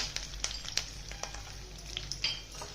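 Curry leaves, cumin and roasted chana dal fry in hot oil with a soft, continuous sizzle broken by scattered small pops and crackles, faint and close.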